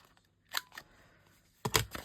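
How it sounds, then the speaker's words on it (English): Scissors snip the rough corners of a paper pocket for a scrapbook journal: two short clusters of crisp cutting clicks, close and fairly quiet, separated by a near-silent pause. "So let's just leave it rough and snip the corners"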